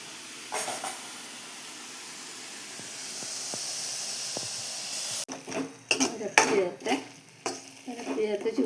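Beetroot being stirred with salt in a pan, a sizzling hiss with scraping strokes for several seconds, then choppy, louder scrapes and clatters of the spoon against the pan.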